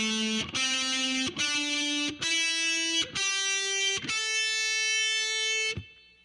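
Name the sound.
heavy metal electric guitar lick with distortion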